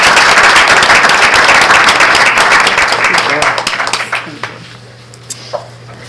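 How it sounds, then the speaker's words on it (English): Loud audience clapping at a school committee meeting, with many people applauding together before it thins out to a few scattered claps and quiet room noise. "Can we clap for Jane?"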